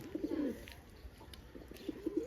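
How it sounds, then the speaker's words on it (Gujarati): Pigeons cooing nearby, soft low throaty calls repeating at intervals against quiet outdoor background noise, with no talk. "જો કબૂતરા બધા વિયા નીચે"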